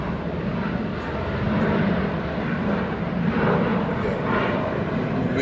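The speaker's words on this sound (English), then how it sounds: "this is the airplane" An airplane passes overhead as a steady, loud, broad engine roar that holds for several seconds with no clear breaks.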